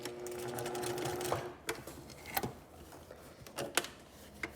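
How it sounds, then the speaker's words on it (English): A sewing machine stitches a puff sleeve in short runs, a rapid mechanical whirring hum that stops and restarts, with sharp clicks and knocks of handling between bursts, close by. "Sew it in small sections and just kind of keep rolling it forward towards you."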